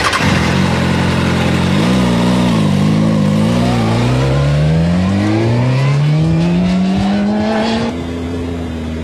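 A motorcycle engine drones loud and steady while being ridden, its pitch dipping and then climbing smoothly through the gears, with heavy wind rumble throughout.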